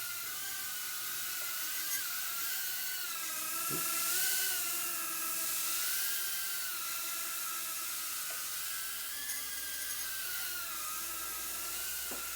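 A small quadcopter drone hovers and spins through pirouettes, giving a steady high-pitched propeller whine that rises and falls slightly in pitch, with faint clicks and no talking.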